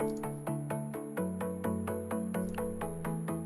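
Bright synthesizer plucks in an EDM track, built from a saw wave, strike in a steady repeating rhythm of short, evenly spaced notes over sustained low chords, loud and upfront with no voices.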